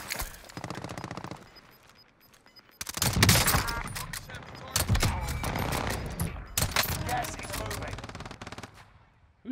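Rapid automatic gunfire in Call of Duty Warzone rings out in bursts and sustained volleys, with a quiet gap early on before loud, dense firing resumes and continues to the end.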